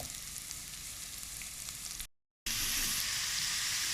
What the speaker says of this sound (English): Fry onions.